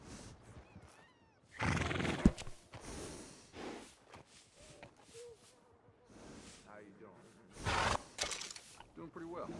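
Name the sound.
horse neighing in Red Dead Redemption 2 video game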